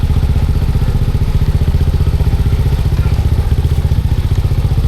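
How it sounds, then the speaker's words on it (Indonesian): A small motorcycle rides through a narrow street in Indonesia, its engine close and loud. The exhaust throbs with a steady, rapid pulse at even revs and no pauses. "Untung motor saya kecil."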